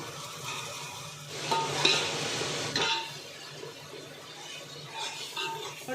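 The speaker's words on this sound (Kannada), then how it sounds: "ಈ ಟೈಮಲ್ಲಿ ನಾನು ಒಂದು ಎರಡು ಸ್ಪೂನ್ ಶುಂಠಿ ಬೆಳ್ಳುಳ್ಳಿ ಪೇಸ್ಟ್ ಹಾಕ್ತಾಯಿದ್ದೀನಿ" Ginger garlic paste sizzles in hot oil with onions in a pan for Ambur-style chicken dum biryani, with close scraping and stirring sounds over a steady fry.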